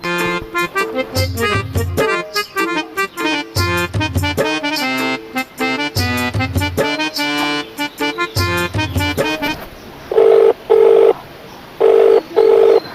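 Rapid telephone keypad tones beep in a quick string of presses, followed by a few longer, evenly spaced tones.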